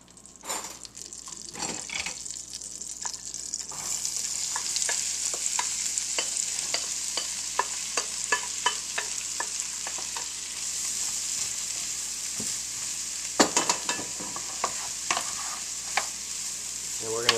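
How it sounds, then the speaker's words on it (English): Diced tomatoes, cilantro and avocado sautéing in a hot pan, a steady loud sizzle that holds throughout, with a burst of hissing near the start and repeated clicks of stirring and tossing over it. "So we're going to toss all this into our pan and get it cranking."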